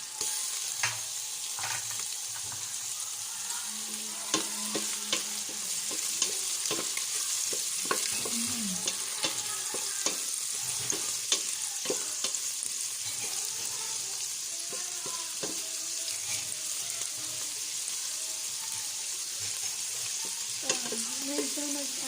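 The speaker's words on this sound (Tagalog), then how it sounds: "So this time, lalagyan na rin natin yung konting hipon na laman ng hipon." Shrimp go into boiling corn soup and are stirred, with a steady sizzling bubble and scraping stir strokes running throughout, close and fairly loud, with no talking.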